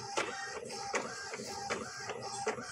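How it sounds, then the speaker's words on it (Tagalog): An inkjet-style printer feeding and printing on bond paper, with repeated mechanical passes and clicks in an uneven rhythm, close and moderately loud with no talking. "So, ito na printer na to"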